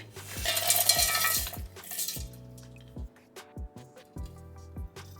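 Ingredients for edible gum (dink) halwa are ground in short pulses, with a loud whirring burst of about two seconds followed by sparse knocks and clinks of the jar and utensils.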